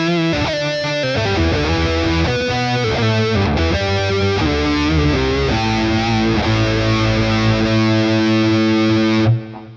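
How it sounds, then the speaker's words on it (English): Electric guitar played through a Boss Katana amp patch with an expression-controlled octave pedal, a thick distorted tone with a deep low octave under sustained riffs and chords, loud and continuous until an abrupt stop. "The expression pedal number 2 on this patch brings in an octave pedal."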